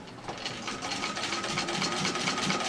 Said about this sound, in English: I'm going to sew over some of these pins.